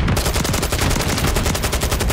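Video game gunfire sounds as a rapid, continuous burst of close, loud shots in an even machine-gun rhythm that fills the whole moment.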